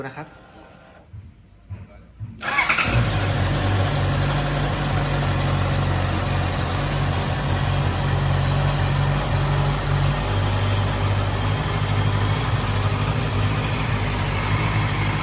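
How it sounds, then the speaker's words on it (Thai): A 2020 Honda CBR650R with about 8,700 km on it starts up after a brief quieter moment with some talk, then settles into a loud, steady, close idle that holds without a break. "มาฟังเสียงห้องเครื่องกันนะครับ"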